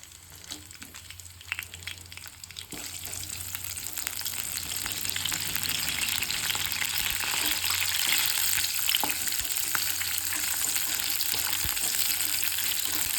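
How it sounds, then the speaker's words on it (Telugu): Green chilies fry in hot oil with a steady, close sizzle that builds and then holds loud and even, with occasional stirring scrapes and no talking. "ఇవి కొంచెం మంచిగా ఆయిల్లో ఫ్రై చేసుకుందాం."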